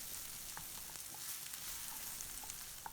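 Onions and green chilies sautéing in oil for a chicken cutlet give a continuous soft sizzle with scattered small pops and light stirring clicks, no voices.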